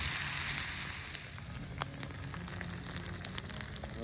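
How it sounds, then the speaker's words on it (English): Bacon frying on a Honda camping stove at a desert campsite, a dense, even crackling sizzle that starts loud and settles into a steadier spitting hiss with scattered pops, no talk. "All right, some bacon."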